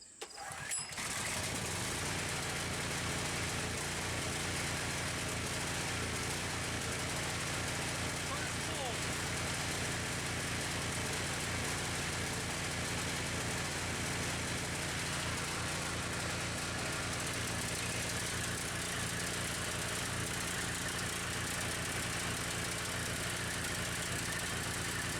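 A generator engine with carburetor problems catches and then runs roughly, holding a loud, continuous mechanical drone close by with no voices.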